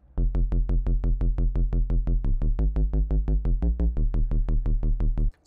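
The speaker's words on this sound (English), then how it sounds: "One of them is a sub-bass pluck that sounds like this." A Serum software synth sub-bass pluck repeats in a steady, punchy rhythm of short, sharp-attack notes with deep low end and bright harmonics, loud and alone for about five seconds.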